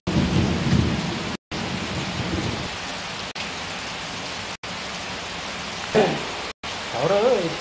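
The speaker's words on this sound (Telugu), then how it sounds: "జిల్లాలో పలుచోట్ల వర్షం కురవడంతో వాతావరణం చల్లబడింది." Steady rain pours down across a district during a storm, a dense, even hiss with brief cuts between shots and a voice rising near the end.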